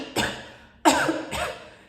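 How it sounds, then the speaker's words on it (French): Three sharp coughs from one person, close and dry, the first on its own and the last two following in quick succession, with no talk. "si vous toussez"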